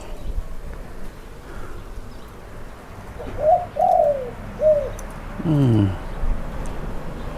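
A weak, molting bird gives soft cooing calls, three or four brief hoarse notes with gaps, over a constant low background hum and faint insect buzz.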